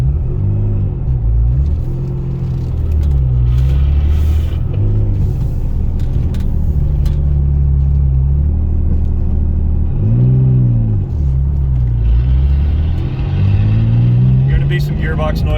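A 2001 Porsche 996 Turbo engine rumbles steadily while driving, with repeated rises and falls in pitch as it revs and shifts, gearbox noise present, loud and close throughout.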